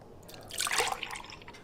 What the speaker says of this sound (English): Now we're going to pour up some of this raw milk that I get from Sprouts.